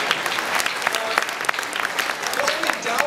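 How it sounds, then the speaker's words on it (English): An audience claps for an award speech at a student leadership ceremony, brisk dense applause close and loud with sharp individual claps standing out and a few shouts. "Yeah, you can clap, come on."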